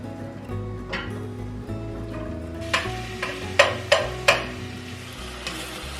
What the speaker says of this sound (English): And then next I'm going to add in all of those chopped onions.